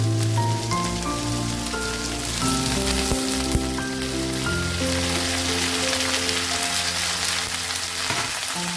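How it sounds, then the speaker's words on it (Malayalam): Washed, salted and drained bitter gourd goes into hot oil in a pan with green chillies, giving a loud, steady sizzle and crackle that fills the whole stretch without a break. "ഇനി നമ്മുടെ കഴുകി ഉപ്പെല്ലാം കളഞ്ഞ് ഊറ്റി വെച്ച പാവക്ക ഇട്ട് കൊടുക്കാം."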